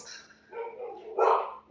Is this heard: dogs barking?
yes